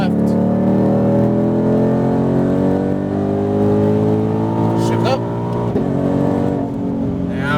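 A Ford Mustang Shelby GT500 engine accelerates hard on a track, its loud rising rev climbing steadily before a gear shift and climbing again, with a person talking over it.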